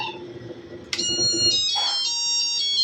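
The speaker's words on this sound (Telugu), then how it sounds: "అలారం కూడా వస్తుంది" A completion alarm on a full automatic flour milling machine grinding turmeric powder, a loud high electronic beeping tone that starts suddenly and holds steady over a low motor rumble.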